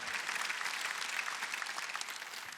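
A church congregation clapping together, a dense, steady patter of many hands filling the room for a few seconds.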